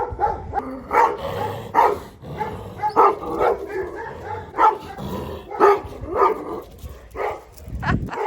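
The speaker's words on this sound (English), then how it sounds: "She's teasing the huge dogs, I think, as she does." Large dogs bark repeatedly outdoors on a walk through regrown burned woodland, the barks coming in irregular bursts at moderate distance, mixed with a voice and other people talking.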